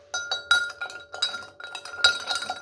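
A teaspoon clinks against a glass as a Churchill drink is stirred, giving a quick series of bright, irregular chinks heard up close without talk.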